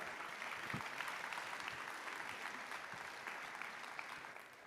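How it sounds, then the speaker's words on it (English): Audience applause at an awards ceremony, a dense, even wash of many hands clapping continuously at steady volume before tapering slightly at the end. "big round of applause for David Lombeda"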